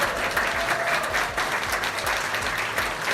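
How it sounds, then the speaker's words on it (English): Steady applause from a studio audience at a cooking competition, dense clapping held evenly for a few seconds, close and fairly loud, with a faint voice briefly underneath. "Can we have a round of applause"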